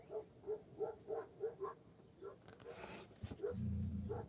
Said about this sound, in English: Lots of dogs barking.